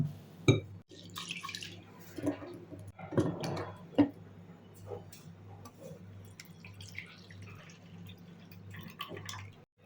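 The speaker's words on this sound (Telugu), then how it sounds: "ఒక కప్పు మినప్పప్పు తీసుకుని శుభ్రంగా వాష్ చేసుకుందాం" Water splashing and dripping in irregular bursts as urad dal is rinsed in a bowl close by, with quiet pauses between.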